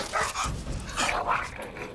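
A dog barks in agitated bursts at another dog nearby, several quick loud yaps and woofs in a rapid irregular run, close to the microphone.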